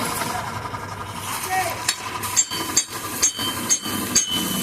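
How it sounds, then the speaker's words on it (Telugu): A hammer taps lightly on the joint cross cup of a Mahindra Supro, a grease-filled cup being seated. There is a steady series of sharp metallic knocks in a workshop with some background noise. "సుత్తితో టాప్ చేసుకోవాలా."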